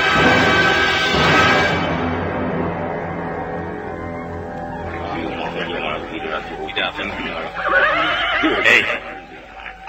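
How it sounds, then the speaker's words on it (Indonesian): A horse neighs loudly as a rider passes through a road crossroads, a long drawn whinny near the start followed by further snorting and hoof noise, with a dramatic voice and music mixed in. "nampak seorang penunggang kuda melewati perempatan jalan."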